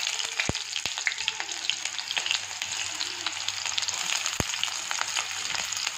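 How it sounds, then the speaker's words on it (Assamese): Chopped onion hitting hot oil in a pan while making steamed taro leaves, giving a steady, close sizzle and crackle that runs throughout, with a few sharp clicks of a utensil. "ইয়াত তেল গৰম হৈ গ'ল মোৰ, ইয়াতে এতিয়া মই পিঁয়াজ এটা যে কাটি থৈছিলোঁ সেইটো দি দিছোঁ"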